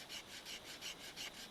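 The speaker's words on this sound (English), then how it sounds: "A dry piece of forest hardwood is grooved with a softwood plough" A Fijian fire plough, a softwood stick driven along a groove in dry forest hardwood, makes quick rhythmic rubbing strokes, about three per second, soft and close.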